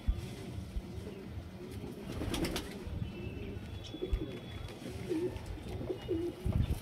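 Giribaz breeder pigeons coo softly and repeatedly close by, with a few quiet wing flaps and light rustling in between.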